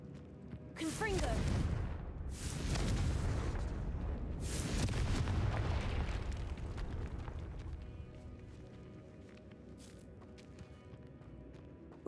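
Confringo blasting spell cast inside a tomb in Hogwarts Legacy on Switch 2: a series of heavy, rumbling explosive bursts, three loud blasts in quick succession over several seconds, then fading to a quieter rumble.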